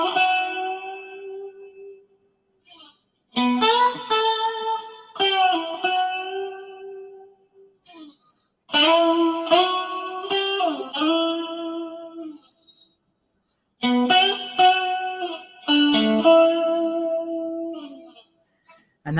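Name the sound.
Stratocaster guitar motif, bridge and middle pickup combined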